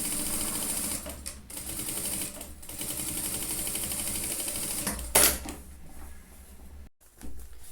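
Sewing machine stitching a zipper onto synthetic PVC fabric, a steady rapid mechanical whir with clattering needle rhythm, close and fairly loud, briefly pausing and restarting with a sharp clack near the end.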